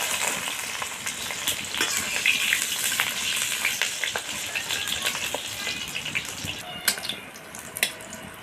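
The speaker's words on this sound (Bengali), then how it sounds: "ওই জন্য আগে আমি সম্পূর্ণ ফ্রাই করে নিচ্ছি আর শেষে বেগুনটাকে ভাজছি।" Eggplant frying in oil in a pan for a shukto, giving a steady broad sizzle throughout with occasional stirring clicks and scrapes, moderately close and no talk.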